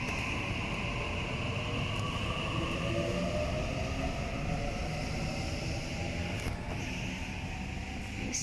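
A train runs through a station without stopping, a continuous loud rumble and rolling rail noise with a rising whine, steady for several seconds before a brief rattling clatter near the end.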